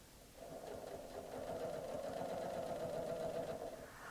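A Janome Memory Craft 6500P sewing machine stitches in one steady run of rapid, even whirring hum, close and fairly soft, starting just after a quiet moment and easing off at the very end.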